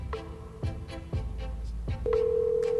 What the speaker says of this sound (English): he ain't going to answer the phone right now